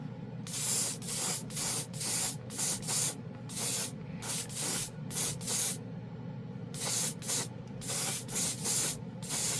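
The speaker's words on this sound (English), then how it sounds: "We're going to spray the handle." An airbrush sprays paint onto a spoon handle in close, steady bursts of hissing spray, roughly one or two per second, with brief pauses between them and no talking.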